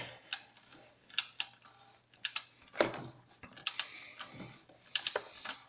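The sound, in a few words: torque wrench clicking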